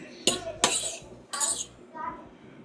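A utensil stirs chilaquiles and eggs in a dish, making four quick scraping clinks against the dish in a short, close burst.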